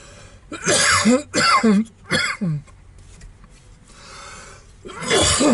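Several harsh coughs burst out in quick succession at close range, followed by a pause and a rough breath, then another cough, during a petrol brush cutter repair.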